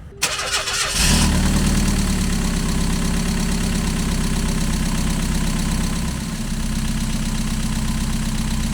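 A Mazda MX-5 with a misfire, just fitted with a new lambda sensor, cranks briefly and catches, then settles into a loud, steady idle with a slightly uneven pulse and a drop in pitch near the end, heard close and alone.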